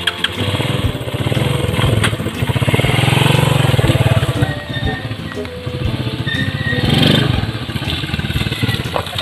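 A motorcycle engine runs close by and loud, a steady revving drone that swells around the middle and again near the end, with no clear talk over it.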